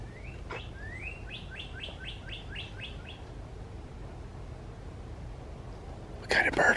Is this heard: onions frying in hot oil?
no